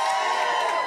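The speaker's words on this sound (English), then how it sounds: "give me a cheer if you're a teenager" A studio comedy audience cheers and whoops together when asked to, a dense, continuous roar of voices filling the room for under a second.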